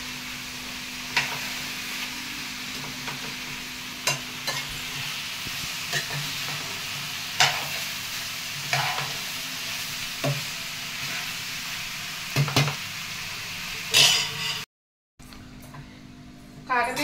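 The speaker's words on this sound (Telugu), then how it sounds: "ఇంకా వేగుతుంది" Dry red chillies, coriander seeds and chana dal for homemade chilli powder sizzling in a pan beside bitter gourd, with repeated stirring scrapes over steady frying hiss and a voice speaking over it.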